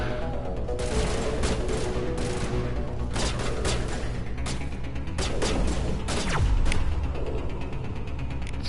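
Sniper fire rings out during a Mass Effect firefight, with sharp cracks and bursts of shots over a continuous noisy battle bed, including a descending whoosh near the end, loud and close.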